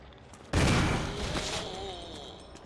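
A gunshot fires at zombies in the Resident Evil video game, a sharp loud blast followed by a fading echoing tail, with faint clicks before it.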